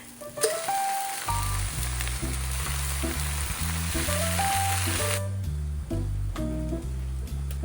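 Leftover fried rice frying in a pan: a continuous, loud hiss of sizzling throughout, with a strong steady musical background of stepped tones running underneath, and no talking.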